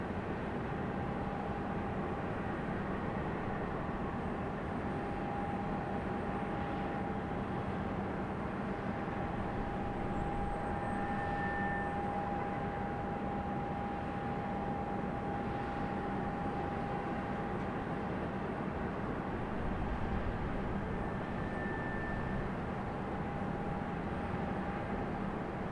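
An airliner departing on runway 23 right at Raleigh-Durham International airport, heard as a steady, distant, continuous engine roar that runs the whole length with a constant whine and no talk.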